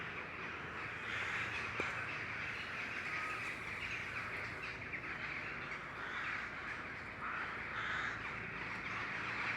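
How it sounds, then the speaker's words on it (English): Crows caw loudly and steadily near a hot tent at a UK woodland camp, a dense chorus of bird calls running through the whole stretch with no talk. "The birds are going crazy"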